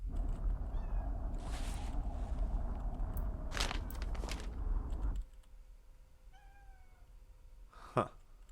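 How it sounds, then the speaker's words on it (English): A cat meows a few times at a moderate distance, with soft background noise and a louder rising cry near the end. "If you guys hear a whining cat in the background,"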